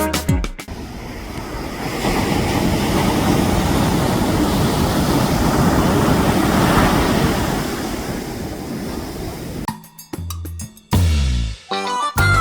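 Ocean surf breaking on the beach at Reñaca, Chile, a steady loud roar of waves with wind buffeting the microphone, which gives way near the end to brief clattering noises.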